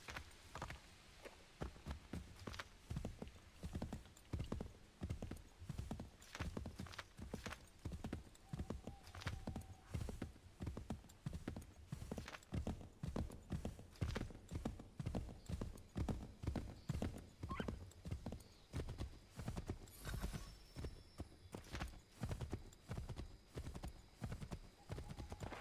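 Hooves clip-clop in a steady, rapid rhythm throughout in Assassin's Creed III Remastered, faint and continuous, with an occasional whinny and soft background noise.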